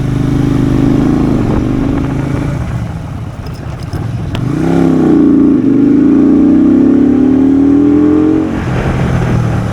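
A Benda Greystone BD250 belt-drive motorcycle rides along, engine droning steadily, dipping as it slows, then revving up and climbing in pitch as it accelerates, loud and close.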